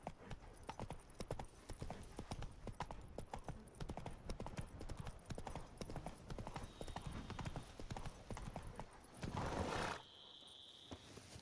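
Roach's hooves clip-clop in a quick, regular rhythm in The Witcher 3, close and steady for most of the stretch before a brief whoosh and a sudden drop to quieter ambience near the end.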